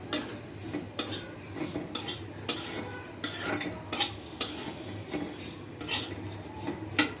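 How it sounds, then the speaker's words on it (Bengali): Sugar is stirred nonstop in a pan until it melts, with a metal spoon scraping and knocking against the pan in a steady rhythm, roughly once or twice a second, over a faint sizzle. "চিনিটা দিয়ে অনবরত নাড়বো যতক্ষণ না চিনিটা গলছে।"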